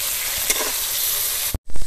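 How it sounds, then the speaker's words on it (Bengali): Fish being stirred around in a pot of water makes a steady broad wash of sloshing, with one sharp clunk near the start and a louder splash near the end after a brief gap. "মাছটাকে জলে ছিড়িয়ে দিতে হবে, ভালো করে নেড়ে নিতে হবে"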